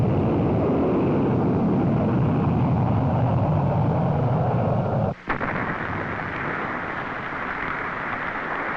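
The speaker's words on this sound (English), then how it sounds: "This early flight ended with an explosion that was visible for miles." A Minuteman missile explodes during an early test flight, heard as a heavy sustained roaring rumble that cuts off abruptly, then gives way to a thinner lingering roar, loud and distant-sounding.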